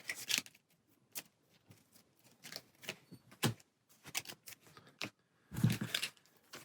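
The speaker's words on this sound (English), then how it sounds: "Then we get 3 more encounter cards to get shuffled in our stack." Encounter cards from the Marvel Champions card game being shuffled into a stack, heard as quick, dry riffling and flicking bursts at close range, separated by short pauses, with a louder, fuller shuffle near the end and no talk.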